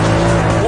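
Gumpert Apollo S sports car engine during a manual downshift, a loud, close, harsh engine roar with a strong steady drone over a very brief moment.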